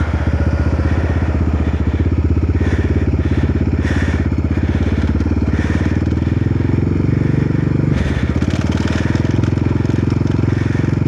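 A motorcycle riding through snow, its engine pulsing in a steady low chug with gentle throttle changes and crunchy bursts, close and continuous, with brief speech at times.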